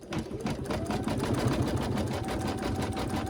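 An embroidery sewing machine stitches a daffodil coaster design, giving a steady, rhythmic clatter of needle strokes that runs continuously at close range.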